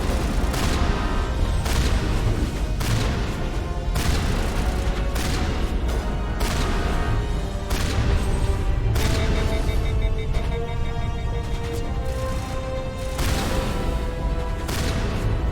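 Gunfire in the video game Mass Effect, in a fight against Krogan: repeated sharp heavy shots in irregular bursts over steady low battle rumble, loud and close throughout, with no talk.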